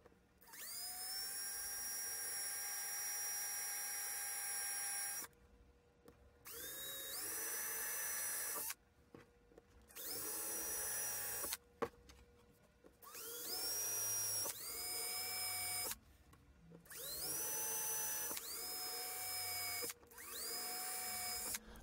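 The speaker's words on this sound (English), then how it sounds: "I will be drilling some small holes in these so I can pass some 3 millimeter nuts and bolts through" A power drill boring eight small holes in a board for 3 mm nuts and bolts while framing a Silicon Graphics Altix 4700 node, heard as close, loud whining bursts of a few seconds each, separated by brief pauses.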